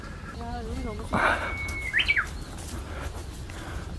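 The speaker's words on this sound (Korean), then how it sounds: "와, 새소리." Birds chirp briefly in a bamboo forest in Geoje, with a short whistled call and a quick burst of chirps heard at moderate distance over a steady background hiss.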